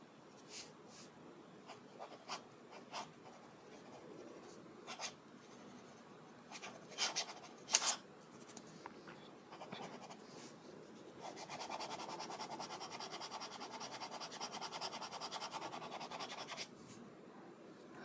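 A HongDian 517S fountain pen with a fine, wet nib scratches across paper up close. The strokes are faint and irregular, with a few sharper ticks and then a longer stretch of continuous writing near the end.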